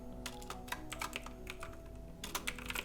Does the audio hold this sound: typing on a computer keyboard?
yes